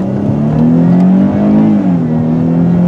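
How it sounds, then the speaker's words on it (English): A 2016 Dodge Charger SXT accelerates hard at full throttle, its engine drone loud and steady from the cabin, holding a rising tone before easing slightly near the end, with no talk. "So I'll go ahead and we will give it some gas coming out of here. Take it easy and then floor it."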